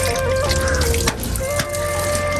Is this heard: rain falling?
no